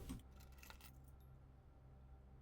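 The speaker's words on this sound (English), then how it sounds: "Got the car keys." Car keys picked up in the puzzle video game Blue Prince, a short metallic jingle at the start over a steady low background hum.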